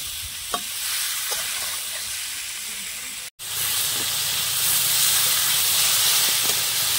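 Potatoes and green jackfruit fry in a pan with a steady, broad sizzling hiss. A few soft stirring clicks break through, and after a brief dropout near the midpoint the sizzle continues without pause. No one speaks.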